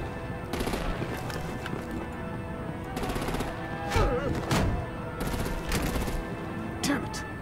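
Gunfire erupts in a Batman Telltale Series video game shootout, with repeated bursts of rapid automatic shots and sharp single cracks. The shots stand out loudly over a continuous rumbling background.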